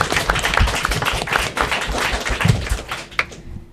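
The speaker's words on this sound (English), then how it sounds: "let's give them all a round of applause" An audience claps steadily at the final match of a middle school academic quiz competition, a dense round of applause that thins out and fades near the end.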